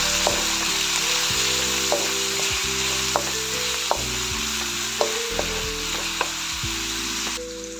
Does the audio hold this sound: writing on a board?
no